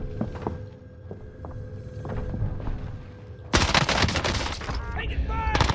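Gunfire in Call of Duty Warzone: a few sparse shots early, then a dense burst of rapid automatic fire and impacts in the second half, mixed with game sounds and players talking.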